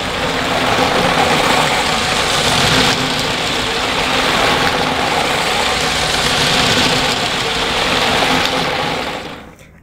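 A motorized LEGO City 60336 freight train runs fast at a high speed setting, giving a steady, loud mechanical whir and rattle that holds for nearly ten seconds before cutting off abruptly at the end.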